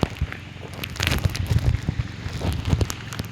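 Heavy monsoon rain falls on a muddy farm field, a close patter of drops with irregular louder splashes and crackles, no voices.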